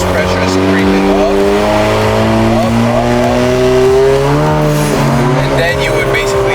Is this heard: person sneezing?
no